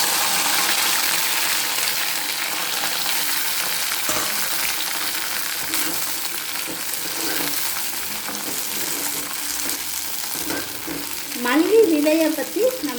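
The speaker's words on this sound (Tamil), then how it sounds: "இப்போ இந்த வெண்டைக்காயை இந்த எண்ணெயில் பொறிச்சு எடுக்கணும்" Okra pieces frying in hot oil for a tamarind curry, a steady broad sizzle running throughout, with a brief louder burst of bubbling near the end.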